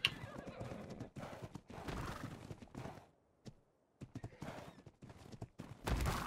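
A horse in the video game Ark: Ragnarok whinnies and clip-clops, with loud, close bursts of hoofbeats and neighing separated by short pauses, including a near-silent stretch midway.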